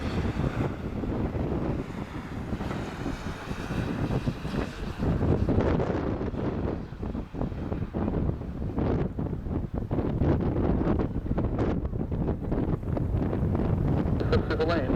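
Strong wind roars and buffets continuously during a Lufthansa airliner's landing approach to runway 23 at Madeira Airport, with gusts at 23 knots. The rumble is heavy, gusty and close, with no pauses.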